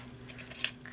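Scissors snipping claw-mark shapes out of specialty cardstock, a faint brief crisp snip or two over quiet room noise.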